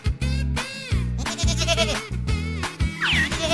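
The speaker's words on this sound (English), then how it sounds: "Goat." Several loud goat bleats in quick succession, wavering and nasal, close up, layered over a pulsing electronic music beat in a cartoon setting.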